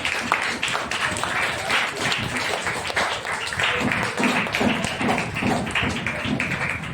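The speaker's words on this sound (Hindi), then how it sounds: "आइए जोरदार तालियां पवित्र आत्मा के लिए।" Sustained loud applause and clapping from a church congregation at a Pentecost Sunday service, a dense, steady wash of hand claps lasting throughout with some tapping thumps, no clear speech over it.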